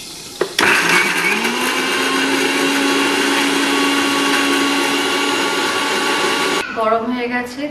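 A blender whirs loudly and steadily for several seconds, grinding tomato, six or seven garlic cloves and five green chillies into a paste, starting abruptly and cutting off near the end, close with no speech.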